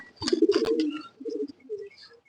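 Pigeons in a large loft of over 250 birds coo in a few soft, throaty bursts close by, one rolling call followed by shorter murmurs and a faint chirp.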